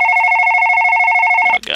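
An in-game telephone rings with a steady electronic warble that pulses rapidly for about a second and a half, loud and close, then cuts off abruptly into a brief clatter.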